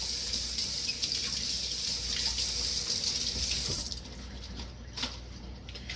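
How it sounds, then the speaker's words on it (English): Vegetables rinsed under a running kitchen tap in a sink, a steady rushing water stream that drops to a lighter, thinner flow partway through, with small splashes near the end. "Let me give these a quick rinse."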